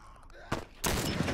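The Last of Us gunshot for a headshot: one sharp crack followed shortly by a louder, fuller blast with a ringing tail, close and fairly quiet overall.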